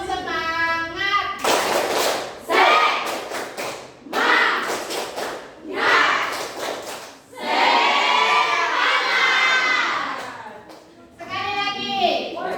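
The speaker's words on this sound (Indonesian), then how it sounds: "Tepuk semangat" Group of children doing the rhythmic tepuk semangat clapping chant in a classroom, bursts of clapping and chanted voices alternating with an adult's talk.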